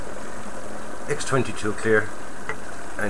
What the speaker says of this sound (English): you have to excuse the noise, lads. My compressor can get pretty noisy.